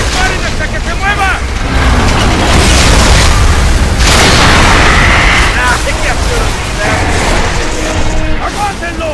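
Heavy gunfire and booming explosions from the video game Gears of War 3, loud and continuous throughout a battle near a boat, with shouted voices of characters mixed into the chaos.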